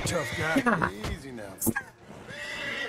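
A horse in Red Dead Redemption II gives a loud, quavering neigh near the start, with snorts and hoof movement around it, while someone speaks calmly over it.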